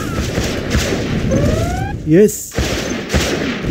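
Rapid quad cannon fire from the video game Command and Conquer Generals rings out over a busy battle soundscape, with a short burst of shots and a voice speaking briefly.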